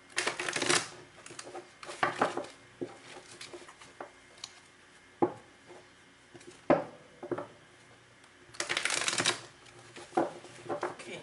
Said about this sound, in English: Two more shuffles here, and then we can cut the cards.